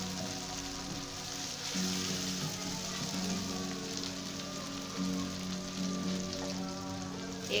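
Tomatoes and green chillies frying in a pan for a fish curry, a steady close sizzle with crackling bursts throughout, no talk.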